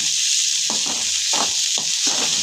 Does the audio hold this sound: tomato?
yes